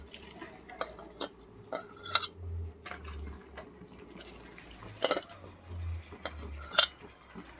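Washed rice tipped into a pot for ilish chingri pulao, giving scattered clinks and scrapes of utensils against metal along with soft low rumbles, moderately close with no talking.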